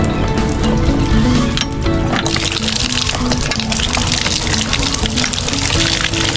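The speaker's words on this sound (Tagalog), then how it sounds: "Malakas naman po tubig na lumalabas." Water gushes steadily from a hose into a chicken waterer, a loud continuous pour that fills the whole clip with no talking.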